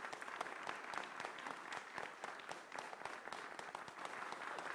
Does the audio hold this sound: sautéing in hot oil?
no